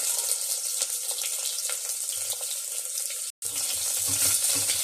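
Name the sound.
onions and curry leaves frying in a pan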